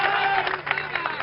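An audience at a Bihar election talk show breaks into applause, a steady wash of clapping from a crowd throughout, moderately loud and without talk over it.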